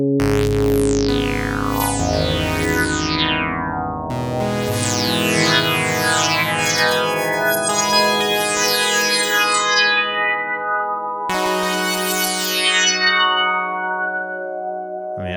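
An Access Virus TI synthesizer patch with LFO modulating the pitch of oscillator 2, bright resonant tones with sweeping, gliding harmonics that restart in several long phrases, heavy with echo and a sustained, shimmering tail.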